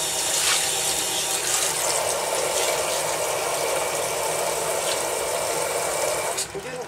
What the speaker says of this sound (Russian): Просто воду с крана.